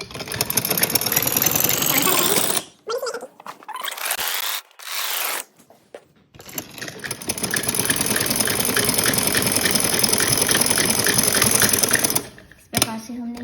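A sewing machine stitches a frock style kurti, running in loud close rapid bursts with brief stops between, then one long continuous run of stitching near the end, with no talk over it.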